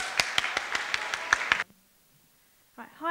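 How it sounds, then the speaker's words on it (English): An audience at a school music festival applauds a performer with a short burst of distinct, spaced claps lasting about a second and a half, then silence before a voice begins speaking. "please give her a big round of applause"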